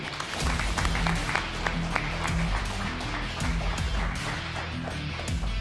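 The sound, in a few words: audience applause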